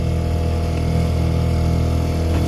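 A 1980s Evinrude outboard motor runs on only one cylinder, giving a loud, close, rough low drone that stays steady and unbroken throughout, with no speech.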